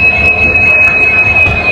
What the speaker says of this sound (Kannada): ಎಸ್ ನೋಡ್ರಿ, ಇದೇ ನಮ್ಮ ಟ್ರೈನ್